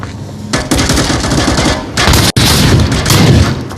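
A shotgun fires in a video game: several loud booming blasts over dense, continuous game noise, with a brief cutout between shots.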